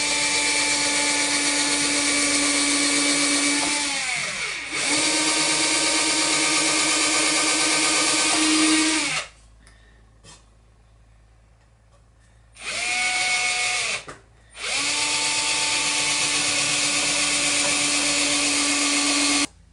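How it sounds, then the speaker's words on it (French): A power drill with a 3 mm bit bores a pilot hole in a model pond sailboat, sustained whining runs of several seconds each, separated by brief pauses and restarts. "Nous allons faire un avant-trou avec une mèche plus petite, avec une mèche de 3."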